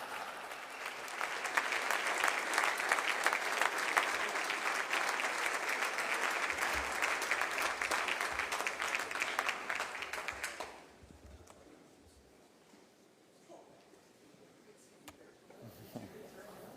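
A crowd at a University of Utah press conference claps and cheers loudly and steadily for about ten seconds, then the applause cuts off abruptly into a quiet room with faint rustles and a voice beginning to speak.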